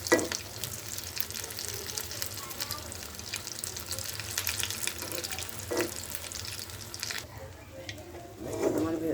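Cauliflower chops deep frying in hot oil give a steady close sizzle with bubbling crackle throughout, thinning briefly near the end before flaring up again.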